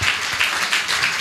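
Enthusiastic audience clapping at a stage event, a short burst of dense applause swelling in waves, loud and close, with no talk over it.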